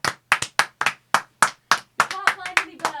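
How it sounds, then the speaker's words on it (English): Hands clapping during a home lockdown livestream: a steady run of sharp, close claps, evenly spaced at first, then quicker and overlapping near the end, with faint voice-like tones mixed in behind. "I'm clapping for two."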